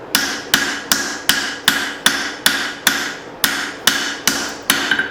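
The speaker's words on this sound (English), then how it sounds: "I'm going to finish off the forging on the blade" Steady, evenly spaced hammer blows ring out as an axe hatchet blade is forged, about a dozen sharp metallic strikes in a regular rhythm, close and loud with no talk.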